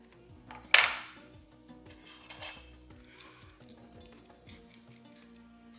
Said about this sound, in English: let's peel the carrots